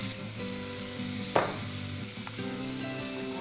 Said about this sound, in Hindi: यही टाइम पे मैं थोड़ी सी सौंफ डाल देती हूँ और जाएगा प्याज